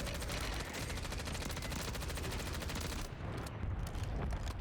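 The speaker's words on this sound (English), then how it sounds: "I shoot him with my SMG" Submachine gun fire in the video game Warzone: a long, dense, rapid burst of shots that stays loud and steady for several seconds with no break.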